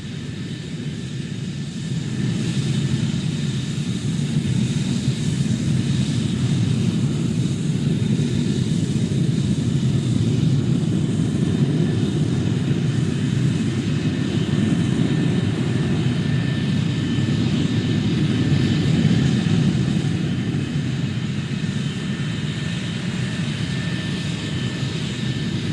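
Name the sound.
F-86 Sabre jet aircraft flying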